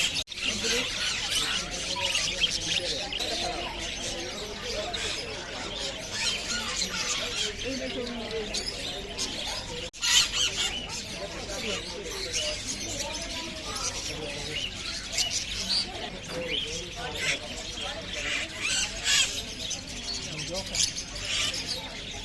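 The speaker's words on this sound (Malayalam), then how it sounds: "പക്ഷികളെയും അതുപോലെ തന്നെ വളർത്തു മൃഗങ്ങളെയും വിൽക്കാനായിട്ട് വെച്ചിരിക്കുന്നത് നമുക്ക് കാണാം." Caged birds, parrots among them, offered for sale at Souq Waqif market in Doha, chirping and squealing in a busy, continuous chatter mixed with market bustle and people talking over it.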